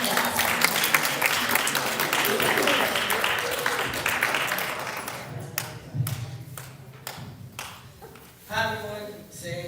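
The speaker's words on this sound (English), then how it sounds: "Please give a big round of applause for Miss Maria's class performing" Audience members at a school reader's theater program clap for a class's performance. The dense applause lasts about five seconds, then thins into scattered claps, thumps and murmuring voices.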